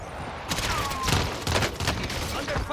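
Rapid bursts of gunfire ring out in a Call of Duty Warzone match, several loud volleys cracking in quick succession with short gaps between them, the shots dominating the mix.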